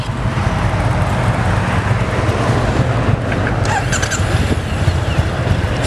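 2014 Triumph Bonneville T100 carbureted motorcycle engine running loud and close with a steady rumbling throb, a brief squeal or rattle heard partway through.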